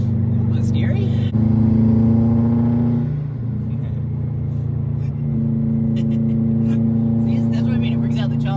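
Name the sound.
Subaru WRX STI Type RA turbo engine revving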